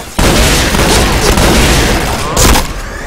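Gunfire in a Phantomtroupe versus Winner clan match of a Thai online shooter game, a dense continuous rattle of shots and booms filling the whole clip, loud and close, with a heavier burst near the end.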